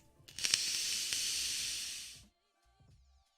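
An Alesia V2+ vape atomizer running at 40 watts gives a strong, steady hiss lasting about two seconds, then cuts off, leaving faint handling noises.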